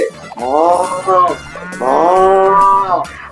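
A voice imitates a cow, giving two long drawn-out moos close to the mic, loud and harmonic, with a short pause between them and no other talk.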